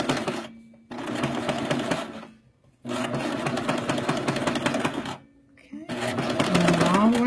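A sewing machine runs a straight stitch to gather fabric for a one-shoulder top, in three steady bursts of rapid mechanical chatter separated by brief pauses, close and fairly loud.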